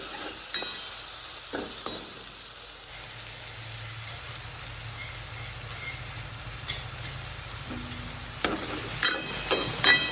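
Onion and tomato frying in oil for pav bhaji: a soft, steady sizzling hiss with occasional stirring knocks and scrapes, a few louder clatters near the end, no voices.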